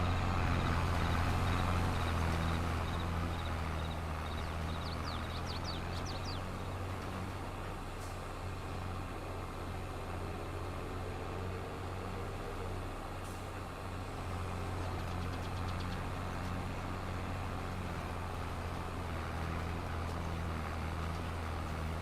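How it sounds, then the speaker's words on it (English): Tractor engine running steadily in the video game Farming Simulator 22, a continuous low idling drone with harmonic hum, heard alone at moderate level. "Brilliant tractor, but love it."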